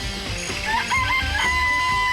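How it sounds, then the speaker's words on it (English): Chickens in a coop from the video game Danganronpa make loud, busy fowl calls with clucks and crow-like tones over a steady background hum. "I remember there were some chickens in the chicken coop."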